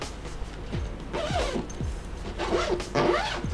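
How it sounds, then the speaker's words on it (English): The zipper on the front opening of a Hypop Studio Pal 25-inch product photography light box tent is pulled closed in several quick, close raspy strokes with short pauses between them. "you can close this zipper front opening"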